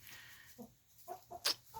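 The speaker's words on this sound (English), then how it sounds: "He's a rooster." A few soft clucks and short calls from a rooster, close but quiet, with a brief sharp squawk near the end.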